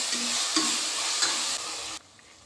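Ginger garlic paste sizzles loudly in oil, stirred for mushroom biryani, with a constant close frying hiss and a couple of stirring scrapes before the sound drops off abruptly near the end.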